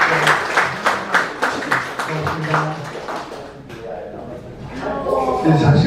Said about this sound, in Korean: 네, 박수 한번 주십시오.